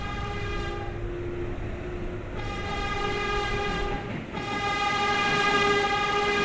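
An R142A subway train in a train simulator game hums along with a steady electric motor whine holding sustained tones, loud and even throughout, without talk.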